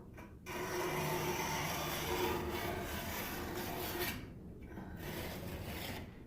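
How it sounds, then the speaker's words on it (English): Steady rasping scrape of a tool across a milk-painted veneered furniture piece, close and continuous for several seconds with a short pause near the end before scraping resumes. "Hopefully that scraping sound isn't driving you guys nuts."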